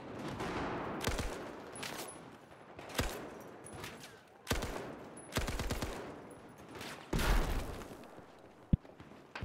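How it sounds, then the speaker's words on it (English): M60 machine gun in a first-person shooter, Pearl Market map, firing several loud close bursts of rapid automatic fire separated by short pauses, with a final single sharp crack. "I'm fighting a shotgun with M60 up close"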